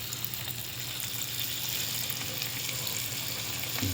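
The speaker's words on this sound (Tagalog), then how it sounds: "prituhin na natin mga idol, mga kapobre, ang ating bangus" Bangus (milkfish) lightly dipped in flour fries in hot oil with a steady, dense sizzle and crackle, close and continuous, with no talk.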